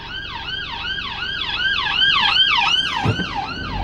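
An ambulance siren wails in a steady repeating up-and-down cycle, loud and fairly close, rising slightly in level midway before a low thump near the end.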